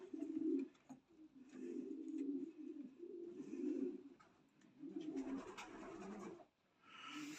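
A pigeon brought to a breeder's loft coos in low, repeated rolling phrases, close and fairly quiet over faint background noise, with no talk.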